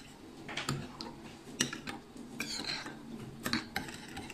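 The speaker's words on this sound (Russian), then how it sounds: "все хорошенько перемешиваем." A spoon stirs a mixture of yeast, water and warm milk in a bowl, making light, irregular clinks and scrapes that are quiet and close.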